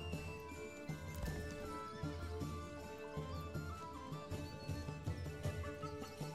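A horse neighs in the Manor Lords video game, a whinny heard over a busy in-game soundscape of music and village activity, with faint clip-clop hooves mixed in.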